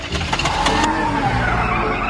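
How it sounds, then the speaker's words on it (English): A cartoon car in a Minecraft-style animation lurches into motion, its engine revving loudly before a drawn-out tire skid and squeal slides across the rest of the moment. "My car is starting to move."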